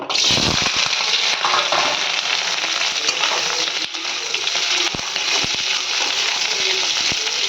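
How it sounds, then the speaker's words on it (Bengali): Potato and cauliflower pieces fry in hot mustard oil in a kadai, a loud dense crackling sizzle running continuously, with occasional scrapes and knocks of stirring and no voices. "এটাকে ভালো করে লাল লাল করে ভাজা হবে।"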